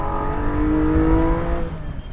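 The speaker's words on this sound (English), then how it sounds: "Porsche have corrected that with this motor. Just listen to it." A Porsche 718 Spyder's naturally aspirated engine revs hard, a loud, rising harmonic howl that sustains near the listener and then eases off toward the end, with no talking over it.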